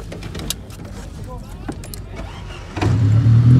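A used 2000-model car is started at a used-car market. Its engine catches near the end with a deep, close rumble after a few seconds of faint clicks and background voices.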